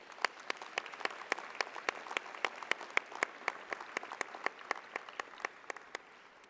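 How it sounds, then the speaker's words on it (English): Applause at the UIC College of Medicine spring commencement, a sparse crowd clapping with distinct sharp claps standing out in a steady, moderately quiet stream in a large hall. "Let's give them a round of applause as well."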